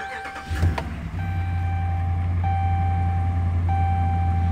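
A 2012 Dodge Ram Sport pickup with 70,413 km on it cranks briefly and starts, then settles into a steady, loud, close idle rumble with no talking.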